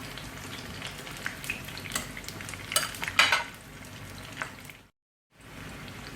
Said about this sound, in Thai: อันนี้ก็ทอดบักเขือม่วงแล้วพี่น้อง ทอดก็มันเหลืองเท่ากับเอาผัดไว้เนาะค่ะ